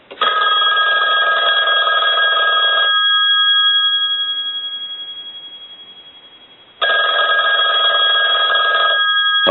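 A 554 rotary wall telephone's bell rings loudly in two long bursts of harsh metallic clanging, a few seconds apart, with only faint lingering hum between them.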